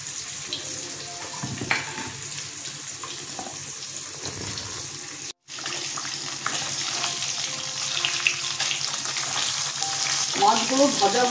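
Katla fish pieces frying in hot oil give a steady, close crackling sizzle that continues throughout, briefly cutting out near the middle, with faint kitchen clatter and no voices.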